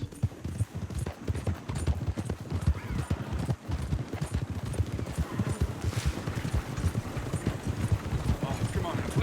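Horse hooves clip-clopping continuously in the video game Red Dead Redemption II, a dense steady gallop with occasional whinnies, under someone talking and game sounds.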